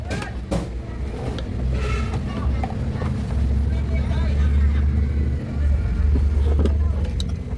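A repaired ice crusher's motor runs with a steady, loud low hum and whir that continues throughout, while people talk nearby.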